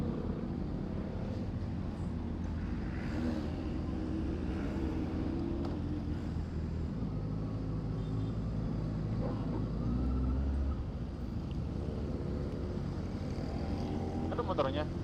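A Honda scrambler motorcycle engine drones steadily during a ride, a continuous low rumble mixed with road and wind noise that holds at an even level throughout.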